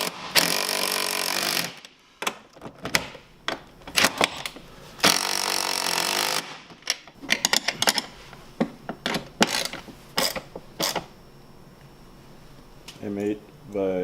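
A power tool tightens M8 bolts on a front bumper being fitted to a Ski-Doo Summit G snowmobile. Long loud whirring bursts alternate with rapid rattling clatter and brief pauses, all close by.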